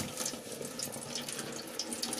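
Water runs steadily from a tap while relaxer is rinsed out of hair, a close, continuous splashing rush with faint droplet spatters.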